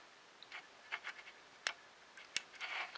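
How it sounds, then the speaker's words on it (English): Faint sharp clicks from the Z-axis limit switch of a Vector 3 3D printer, a few brief irregular ticks with soft mechanical scratching between them and no voices. "You can hear it go click."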